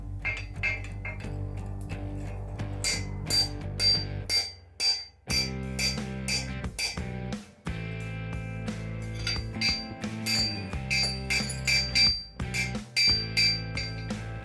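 A blacksmith drives a steel drift into a hot forged hammer made from steel toe caps, giving repeated sharp ringing hammer blows on the anvil in quick bursts with short pauses between them.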